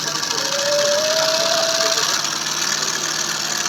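An automatic two-needle sewing machine with a fixed and a moving thread-cutting knife runs close by with a steady mechanical whir and buzz, continuous throughout and without speech.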